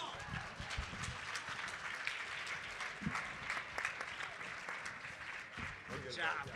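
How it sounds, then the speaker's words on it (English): Scattered clapping and cheering from a small group at the end of a skincare lecture, fairly faint and uneven, with brief voices mixed in. "Hey, round of applause."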